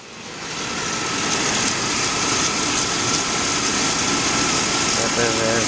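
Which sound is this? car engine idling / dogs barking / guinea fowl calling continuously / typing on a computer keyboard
car engine idling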